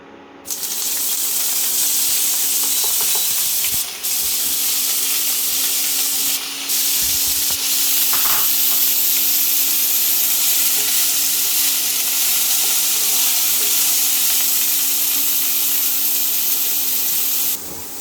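Broccoli tossed into a hot pan of oil for a mixed vegetable dish, a loud, dense, steady sizzle and spray that runs nearly unbroken, with brief dips and a few utensil knocks against the pan.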